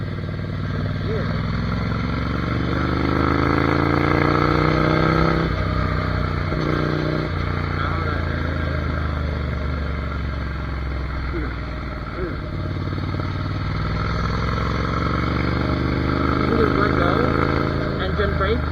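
A Ducati Monster 797 motorcycle engine rises and falls in pitch as the rider alternates between engine braking and accelerating, close and steady, with someone talking throughout.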